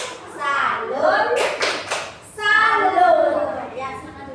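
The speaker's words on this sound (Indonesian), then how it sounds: "tepuk salam dong untuk kelompok 3" Schoolchildren chant in unison in a classroom, with one tight cluster of loud group claps midway between the sung calls.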